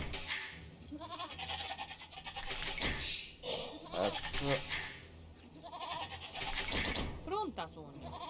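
Goat bleats from Age of Empires II recur several times, mixed with someone talking over background game music.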